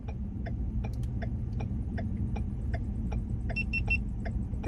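An electronic device beeps repeatedly after a battery is put in, giving a steady series of short, evenly spaced chirps over a low background hum, ending with a brief louder knock.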